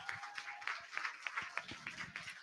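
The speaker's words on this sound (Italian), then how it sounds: "Ancora un applauso Star Wars Clan Team Trieste." An audience at Maker Faire Trieste applauding the Star Wars Clan Team Trieste, a fairly sparse patter of individual claps under a tent, uneven and moderately close.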